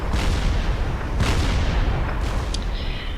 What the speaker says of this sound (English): just look at those rapid-fire artillery cannons